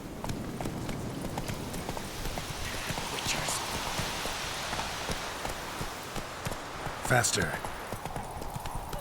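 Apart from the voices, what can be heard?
horse Roach galloping hooves, from video game The Witcher 3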